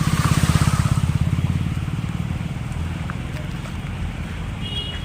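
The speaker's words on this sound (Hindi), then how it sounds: "आगे से बाइक आ रही है और गीला कर देगी।" A motorcycle rides along a rain-soaked road, its engine putting out a rapid pulsing throb that is loudest at the start and settles into a steadier rumble with wind noise on the microphone.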